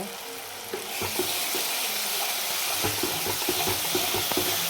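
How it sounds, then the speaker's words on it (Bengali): A paste of ground cashews, poppy seeds and melon seeds fries in oil in a pan, giving a steady close sizzle with repeated stirring scrapes and clacks throughout. "মশলাটা থেকে তেল ছাড়া অবধি একটু কষিয়ে নেব।"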